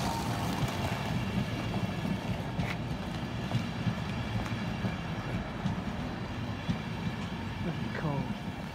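A train rumbles steadily through Northallerton station at night, a continuous low rolling roar with faint rail clatter that stays loud and near throughout.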